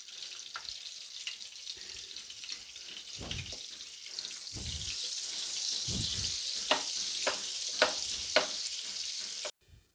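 Oil and butter sizzle in a pan for pav bhaji, giving a steady bright hiss with scattered pops and a few soft stirring knocks. The sizzle grows denser toward the end, then cuts off abruptly, with no talking.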